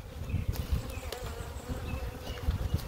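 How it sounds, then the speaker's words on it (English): Honeybees buzz steadily around an opened hive that has not been smoked, mid-split with queen cells, a dense close swarm drone with individual bees passing near. "I don't smoke my bees, so they're always a little bit flyy"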